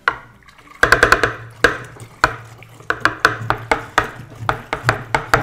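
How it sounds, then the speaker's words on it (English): Home-brew wort being stirred in a fermenter, with a steady run of sharp knocks and sloshing strokes close by, coming faster toward the end, and no talk. "While I'm stirring, I'm adding a lot of oxygen into the wort as well."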